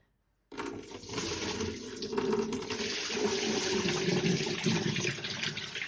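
Water pours steadily out of a soaked hand-knitted triangle shawl into a washing machine drum, a continuous splashing gush that starts abruptly after a brief silence and stays loud to the end.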